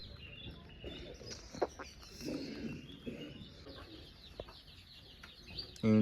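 Chickens cluck in a rural yard in Telangana during Sankranthi, scattered soft calls over a low outdoor murmur, moderately near and fairly faint.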